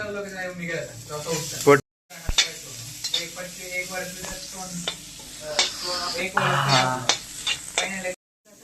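Onion frying in a pan with a loud hissing sizzle and stirring scrapes, close up, with brief cuts to silence.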